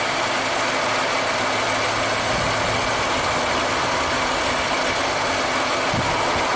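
A 1995 Buick Riviera's supercharged V6 idles with a misfire, a loud, steady engine drone with broad hissing noise and a faint irregular low stumble running throughout.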